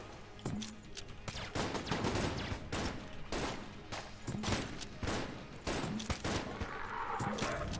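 Rapid bursts of gunfire crackle continuously in the video game Enter the Gungeon, dense overlapping shots like an intense firefight, moderately loud with no speech.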